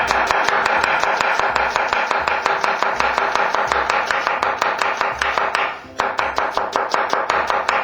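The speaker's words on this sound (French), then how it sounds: "Pour l'oignon, je vais l'émincer." Rapid, steady knife strokes on a cutting board as an onion is minced for tripes à la mode de Caen, close and crisp, with a brief pause before the chopping resumes.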